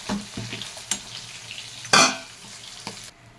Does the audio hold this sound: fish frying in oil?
yes